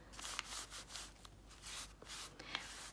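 A brush rubs gesso gently over a napkin on a journal tag in soft, repeated strokes, faint and close, with quiet scuffs between passes.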